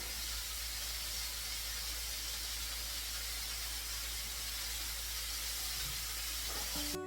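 Chopped onions sautéing in a pan give a steady, broadband sizzle and hiss that runs without a break from start to end, fairly close, with no talk over it.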